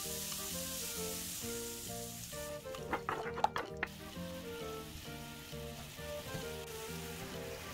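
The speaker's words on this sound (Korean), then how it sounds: "마늘 향이 올라오기 시작하면 준비한 양념장 넣고 바글바글 끓여줍니다" Seasoning sauce with perilla oil and garlic bubbles and sizzles softly in a pan for braised king oyster mushrooms, a steady crackle with a brief busier burst, under background music.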